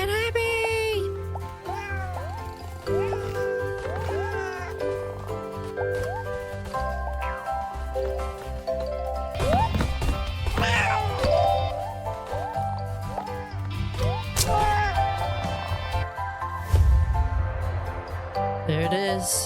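Repeated cat meows from the video game Keito, sounding over game music with a person talking across much of the stretch.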